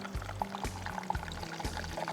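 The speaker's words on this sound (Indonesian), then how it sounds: "lalu kita siram dengan minyak panas" Hot oil poured over sambal goang ingredients in a stone mortar, giving a steady close sizzle and crackle with repeated low sputtering bursts through the pour.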